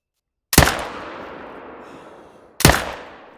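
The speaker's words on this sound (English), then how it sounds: "we're gonna shoot this guy using the Zarza" Two loud, sharp rifle shots from a Zarza rifle while hunting in theHunter Call of the Wild, each cracking sharply and then trailing off in a long echoing decay, spaced about two seconds apart.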